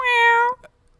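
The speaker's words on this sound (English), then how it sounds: "That's a cat." A single loud, close cat meow, drawn out for about half a second with a rich harmonic tone, then a brief soft trailing sound before near silence.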